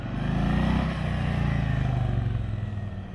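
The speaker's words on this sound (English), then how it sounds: "I like that Milwaukee 8 engine in the 107 in the Softail" A Harley-Davidson Low Rider Softail with a Milwaukee-Eight 107 V-twin rumbles past close by, its deep loaded throb rising and then settling into a steady cruise, with no talking.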